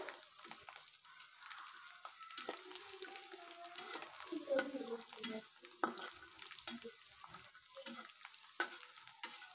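Homemade kurkure-style snacks sizzling and crackling steadily in hot oil as they are stirred, with occasional scraping clatters from the spoon against the pan, close and moderately loud throughout.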